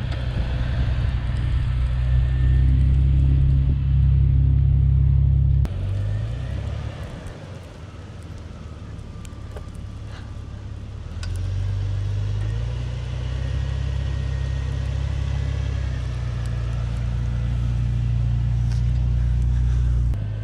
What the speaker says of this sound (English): All right, he's in four-wheel drive.